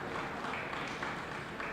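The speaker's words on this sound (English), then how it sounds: "Give Sasha a warm round of applause as well." Applause from an audience at an inter-secondary school debate, a steady dense wash of clapping held at an even level throughout, fairly quiet and without pauses.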